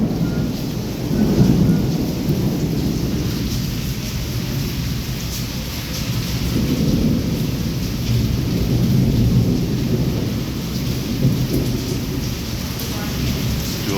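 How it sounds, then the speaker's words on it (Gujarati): Steady heavy rain in Wankaner, Gujarat, with nonstop lightning and low, rolling thunder swelling and fading several times, continuous and fairly loud throughout. "સતત વીજળી થતી હોય એના લપકારા તમે જોવા મળી રહ્યા છે અવાજ જોવા મળી રહ્યો છે"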